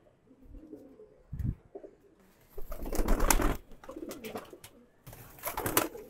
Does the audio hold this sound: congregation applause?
no